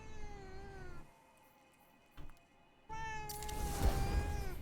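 A pet cat meows repeatedly for attention indoors. The long, drawn-out, whiny cries are loud and close, with a short break partway through and a brief sound between the calls.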